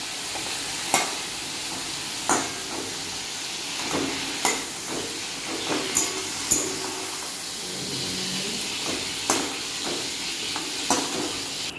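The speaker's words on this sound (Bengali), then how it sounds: "চিংড়ি মাছগুলো ভালো করে ভাজা হয়ে গেছে এবার আমি চিংড়ি মাছগুলোকেও তুলে নেব" Prawns fry in hot oil in a pan, a soft continuous sizzle broken by repeated sharp clinks and scrapes of a spatula stirring at irregular intervals.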